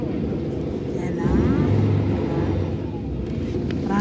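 Road traffic passing near a former airport, a steady broad rumble of vehicles with a swell in the middle as something louder goes by, heard at moderate distance without speech.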